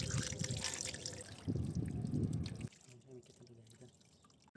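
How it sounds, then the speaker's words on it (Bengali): A hilsa fish is washed under water, with steady splashing and running water up close, louder at first and then easing into quieter trickling and drips. "এখন আমি মাছটা পরিষ্কারভাবে ধুয়ে নিব।"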